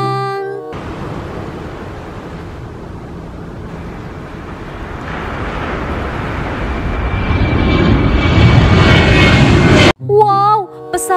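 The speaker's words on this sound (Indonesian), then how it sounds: "Ada pesawat terbang." An airplane engine roars in a steady, broad rush that swells louder toward the end, then cuts off abruptly before a brief tonal snippet.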